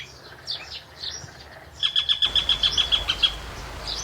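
An eagle gives high, thin chirping calls: a few scattered notes, then a quick run of about a dozen sharp, evenly spaced chirps, clear and moderately close.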